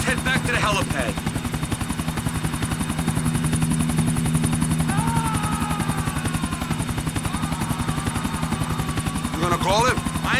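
Helicopter rotor in Grand Theft Auto IV: The Ballad of Gay Tony, a steady chopping drone that holds loud and close for the whole stretch, with game voices talking briefly over it.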